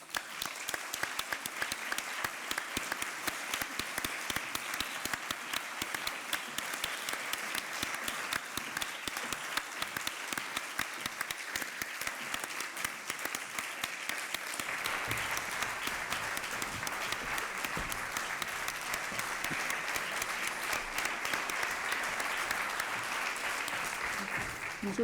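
Sustained applause from a concert-hall audience greeting the members of the Bilbao Symphony Orchestra, dense and even clapping that carries on for the whole stretch at moderate distance, swelling slightly in the latter half.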